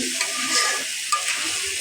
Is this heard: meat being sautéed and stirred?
yes